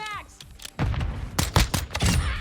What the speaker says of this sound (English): I'm just popping shots.